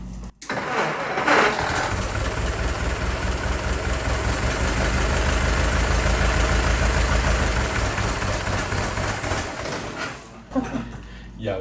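The engine of a 1914 Model T Speedster starts with a jolt and then runs at a loud, even chugging idle for several seconds before cutting out, and voices talk over it.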